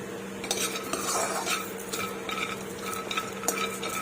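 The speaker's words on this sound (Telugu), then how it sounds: "నేను ఈ మసాలా దినుసులన్నీ వేసుకొని నేను ఫ్రై చేసుకుంటాను." Whole spices fry and get stirred in a hot pan, with repeated scraping and clinks of a utensil against the metal over a steady, soft background hum.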